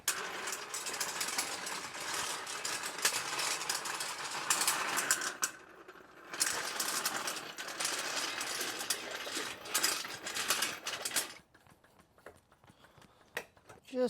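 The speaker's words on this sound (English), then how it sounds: "Now I can go ahead and lift the bike off the ground." A motorized lift raises a CFMoto 450MT Ibex adventure motorcycle, a loud, steady whirring drone that cuts out briefly, starts again and then stops, leaving near quiet.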